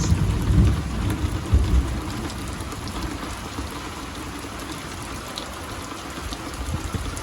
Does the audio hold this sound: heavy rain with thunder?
yes